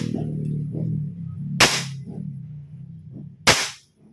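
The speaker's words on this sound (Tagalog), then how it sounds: "Malakas naman ang kanyang putok." A PCP air rifle fires two sharp, loud cracks about two seconds apart, each with a brief decaying tail, over a low background hum.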